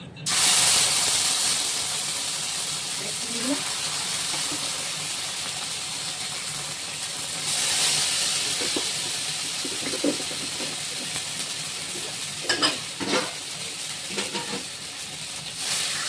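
Cumin paste frying in a pan, a loud hissing sizzle that bursts up at the start and again midway, with a few scattered clinks of stirring toward the end.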